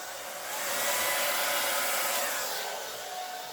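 A hair dryer pushes white acrylic paint across a pour, making a steady, close airy rush that swells and eases slightly as it moves, continuous for several seconds with no one speaking.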